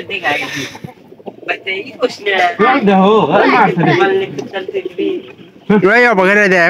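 Pigeons give repeated throaty, rolling coos close by, mixed with wing flutters and rustling around the coop, while people talk over them at times.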